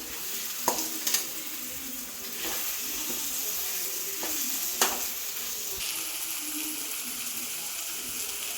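Ripe banana cooks with jaggery in a hot pan, a steady low sizzle under occasional sharp knocks and scrapes of a spoon against the pan, close by, without speech.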